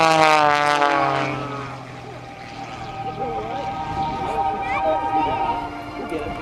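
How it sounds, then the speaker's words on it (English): An aerobatic propeller airplane performs a tumbling routine at the 2009 Dayton airshow, its engine droning and shifting pitch at a distance under a loud announcer's commentary. "that Thunderbolt engine on the propeller to actually make the thing tumble with the right wing going out in front of her"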